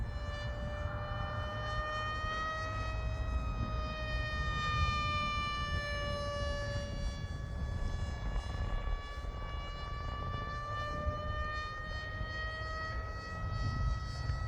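A Zagi RC flying wing with a brushless motor at half throttle gives a steady, high, whining tone with faint pitch drift over a low rushing wind noise, sustained throughout at moderate level.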